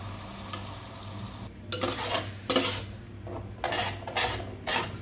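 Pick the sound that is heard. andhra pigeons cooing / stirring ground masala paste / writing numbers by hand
stirring ground masala paste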